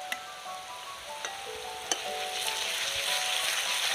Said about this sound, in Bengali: আদা রসুন বাটা দিয়ে ভালো করে কিন্তু পেঁয়াজের সাথে ভেজে নিতে হবে।